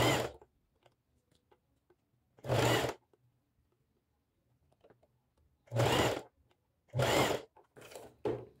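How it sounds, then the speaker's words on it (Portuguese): A sewing machine stitches fabric around the edge of a homemade fabric beret. It comes in four loud, steady bursts of running stitches, each roughly half a second to a second long, separated by quiet pauses. "E aí eu vou costurando aqui em toda a volta, ó."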